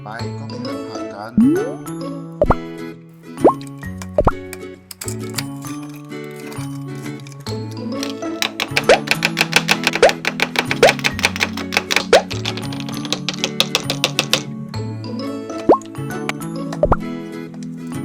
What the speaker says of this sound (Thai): ต่อไปก็ไปหั่นผักกัน